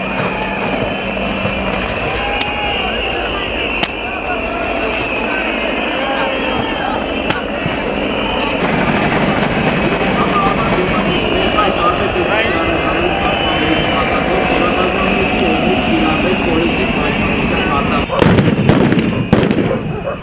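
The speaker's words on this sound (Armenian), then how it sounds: "Կողմերի միջև պարբերաբար տեղի են ունենում բախումներ, հնչում է պայթյուն, կրակոցներ։" Street clashes between protesters and authorities bring sharp explosive bangs and bursts of gunfire over a constant crowd roar, with a denser cluster of loud cracks near the end.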